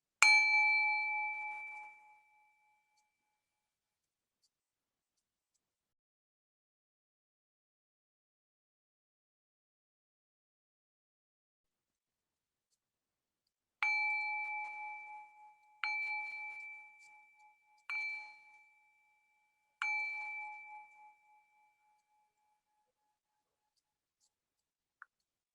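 A gong struck to mark time in an online meeting rings out once, then after a long silence sounds in four more bright, ringing strikes that fade slowly, with no speech.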